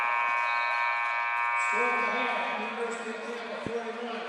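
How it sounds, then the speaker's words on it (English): A loud sustained basketball shot clock buzzer blares over crowd noise at a college men's game, then cuts to a lower tone as the arena din continues. "Micah Brown at the buzzer."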